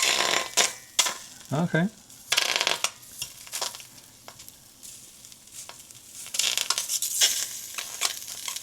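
Tofu pieces are turned in a pan as they fry without oil, giving a run of clattering scrapes and knocks against the pan over faint sizzling, with a short spoken word in between.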